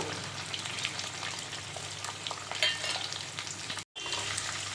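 Green chillies fry in oil as a tempering for Tirupati-style katte pongali, giving a soft, continuous sizzle close by with a momentary dropout near the end.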